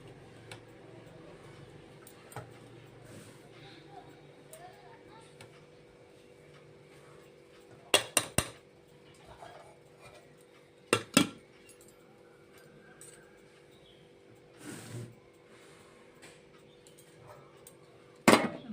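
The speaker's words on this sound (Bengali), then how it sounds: "ছেলের জন্য ভাত বাড়ছি।" Rice is served onto plates in a quiet home, with scattered clinks of dishes and cutlery, a few sharp clusters of louder clatter, and faint ticking in between.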